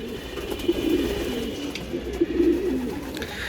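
Racing pigeons in a loft in Mirpur, Dhaka coo in soft, repeated throaty bursts, several close calls rising and falling over a background of faint ambient noise.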